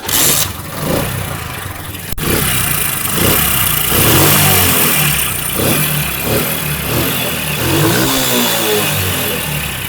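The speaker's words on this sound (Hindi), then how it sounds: "अब इंजन का साउंड जो है वो आपको चेक करवाते हैं।" A car engine with white smoke and oil consumption problems runs loudly up close, its rough mechanical clatter rising and falling with a few revs and no voices.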